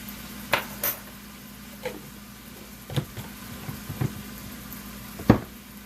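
Venison sizzles softly in a frying pan as minced garlic is added, with quiet steady frying broken by a few sharp utensil clinks and taps against the pan.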